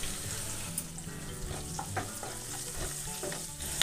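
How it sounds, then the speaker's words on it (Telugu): Crushed garlic cloves and curry leaves sizzle steadily in hot oil for an aloo fry, with a few stirring scrapes breaking through the continuous frying hiss; close and moderately loud, no voices. "ఒక 5-6 వెల్లుల్లి ఇట్లా చితగొట్టుకొని ఆయిల్లో వేసుకొని కలుపుకోవాలి."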